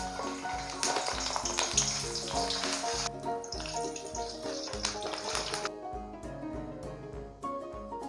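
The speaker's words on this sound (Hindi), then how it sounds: "अब इसके अंदर ये मिर्चें डालेंगे, ये देखिए।" Green chillies fry in hot ghee in a pan, giving a loud, continuous hissing sizzle that eases partway through, over a steady rhythmic low beat in the background.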